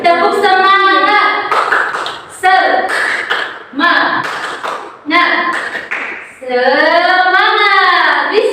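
In a classroom, a teacher and young pupils chant the rhythmic 'tepuk semangat' clapping game, with sung voices alternating with short bursts of clapping.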